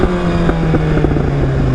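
A motorcycle with an aftermarket exhaust runs at around 90 mph, its steady droning engine note buried in heavy rushing wind noise, loud and continuous with no talk.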